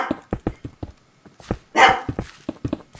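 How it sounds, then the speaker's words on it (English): A Chihuahua barks demandingly in a rapid run of short, high, yappy barks, close and loud, with one longer, raspier bark in the middle and the barking continuing insistently. "That's a very demanding Chihuahua bark."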